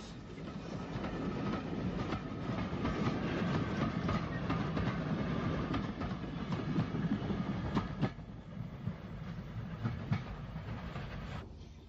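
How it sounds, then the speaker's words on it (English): An Isle of Wight Railway steam-era train, former LSWR tank engine hauling old passenger stock, rumbles past near a road bridge on the line towards Ryde, with steady wheel clatter and rhythmic clicks from rail joints. "as a train heads towards Ryde"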